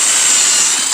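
A power drill bores deadbolt holes through a door, making a loud, steady high-pitched whine that runs without a break for the whole second, with no talking.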